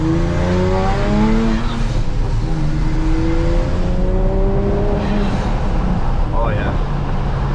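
A BMW E60 with the N54 engine cruising at night with the windows down, its engine rising and falling through gear pulls under constant wind roar, loud and close inside the cabin.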